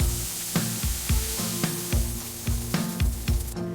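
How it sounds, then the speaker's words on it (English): A small cube of butter sizzles in a hot pan, with a soft continuous fry broken by regular clinking knocks of a utensil against the pan, close and moderately quiet. "Drop a small cube of butter into the hot pan."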